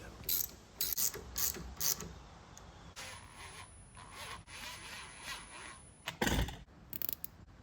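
Hose clamps being tightened on a 2005 Arctic Cat 400 4x4 ATV, with faint clicking ratchet strokes in short bursts and a few louder metallic clanks, close and alone.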